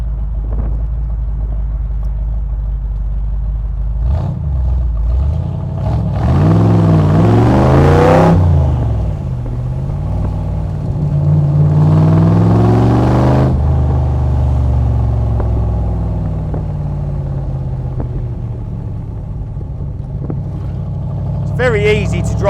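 Unique Autocraft Python Cobra replica's engine idling with a deep rumble and then revving hard twice in long, loud, rising bursts that settle back to idle. Someone speaks briefly near the end.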